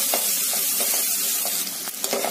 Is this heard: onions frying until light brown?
yes